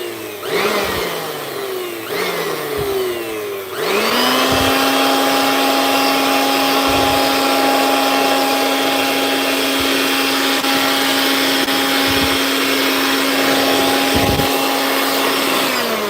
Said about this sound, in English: watch how good this blower works